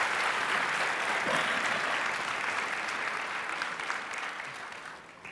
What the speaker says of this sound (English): can I have another round of applause just for Lady Naipaul?